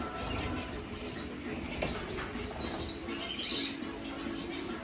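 Gouldian finches with white breasts chirp and twitter in an indoor bird room, a steady, busy layer of small bird calls that stays moderately loud throughout with no voices.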